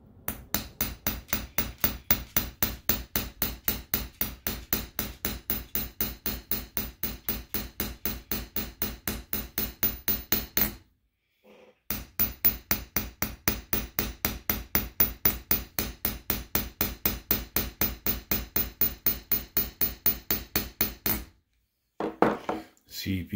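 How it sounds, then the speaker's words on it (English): A hammer strikes a silver coin being shaped into a ring in rapid, even blows, dozens of sharp metallic taps in two long runs separated by a short pause, close and clear. "give it a hammer hit, it just kind of polishes the silver a bit"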